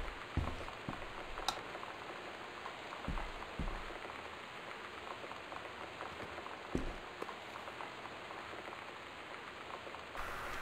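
Rain falls in the video game Gone Home, a faint, steady hiss of rainfall with scattered soft knocks and taps across the whole stretch and no talking.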